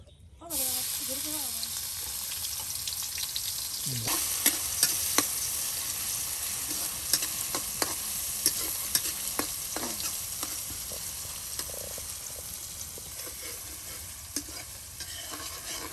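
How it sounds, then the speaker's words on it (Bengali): Chopped onion and garlic tempering in hot oil for a rural village fish curry give a steady, close sizzle with a constant hiss and scattered crackling pops; short bits of a voice come in near the start. "পেঁয়াজ রসুন সব একসাথে কেটে বেছে কিন্তু বাগার দিয়ে দেওয়া হচ্ছে"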